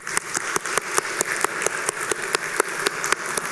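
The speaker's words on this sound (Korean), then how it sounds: "우리 성가대에게 다시 한번 격려의 박수 올려드렸으면 좋겠습니다" Worshippers at a Sunday church service clap for the choir, a moderate, fairly even patter of applause with sharper individual claps standing out at a regular pace.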